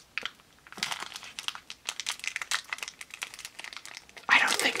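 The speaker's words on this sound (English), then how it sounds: "Let's try ripping one of these again." Foil trading card pack being ripped open close up, a run of crinkly, crackling tears and rustles in bursts, ending with a louder sharp crumple.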